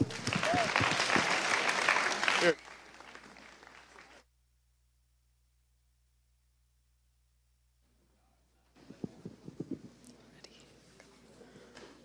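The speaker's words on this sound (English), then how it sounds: "Let's give her a round of applause." A burst of clapping from an audience at a high school spoken word performance, loud for a couple of seconds then fading out, followed by silence and faint rustling.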